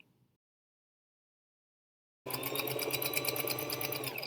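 A sewing machine stitches a seam on boxer shorts, starting abruptly after silence and running at a fast, even, rattling pace, close and clear.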